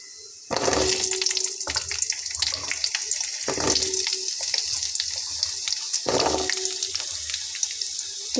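Potatoes and drumstick pieces frying in hot oil with cumin and black cumin, a loud broad sizzle that bursts in suddenly and keeps hissing steadily, with a few swelling surges as the pieces settle in the pan.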